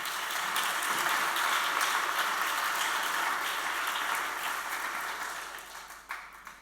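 An audience claps at a talk on turning pain into power, a dense wash of applause that holds steady and then slowly thins out toward the end.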